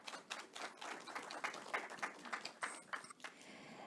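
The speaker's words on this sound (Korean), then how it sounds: "따뜻한 박수 부탁드립니다." Audience applause for speakers at an AI conference, a faint, uneven patter of claps that rises and falls in short bursts before tapering off.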